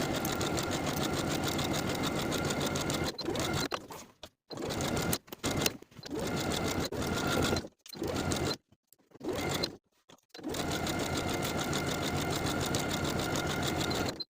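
A sewing machine stitches the facing of a women's wool jacket with a 3/8 inch seam allowance, running steadily at first, then in short stop-start bursts, and finally in one long continuous run, close and fairly loud with no talking.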